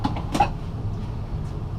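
A large kitchen drawer in a 2019 Isata 5 Series 30FW motorhome slides open or shut with a single short rumbling clunk near the start, followed by a quiet room with no talking.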